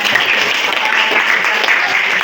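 Applause from a classroom of students fills the whole stretch, a steady, dense wash of clapping at close range with no clear pauses.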